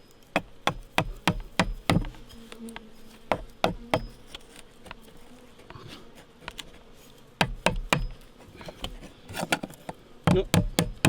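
Bees buzz around a beehive during repair work, a faint continuous hum underneath repeated sharp knocks and taps from close by, arriving in irregular clusters.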